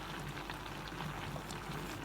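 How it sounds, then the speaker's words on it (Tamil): Anchovy theeyal curry bubbling in a covered pot with curry leaves, a faint, steady low simmer of small bursting bubbles, close and without talk. "பாருங்க இப்போ 2 நிமிஷம் கொதிக்க விட்டாச்சு."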